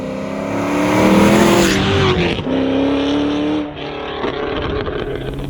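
An LS V8-swapped Subaru BRZ with a half cage drives off on cool tires, its exhaust in quiet mode: a steady droning engine note that rises through the revs, dips at gear changes, then settles into a lower cruise.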